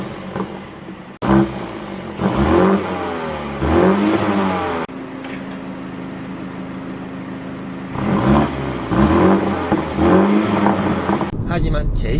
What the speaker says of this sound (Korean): 일상생활에서 남들에게 피해를 전혀 주지 않을 정도로의 배기 사운드를 보여줍니다